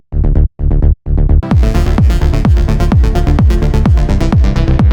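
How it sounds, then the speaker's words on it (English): A rolling house bassline from an Evo Sounds synth preset, loud and alone, follows the root note in quick repeated plucked notes after a few short stabs, with a steady driving rhythm. "Just make sure that it's a rolling bass."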